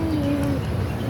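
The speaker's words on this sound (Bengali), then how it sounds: "পাখিগুলো কি সুন্দর ডাকছে" A single drawn-out, gently falling bird call sounds near a pond with ducks, set against a steady outdoor background with no one speaking.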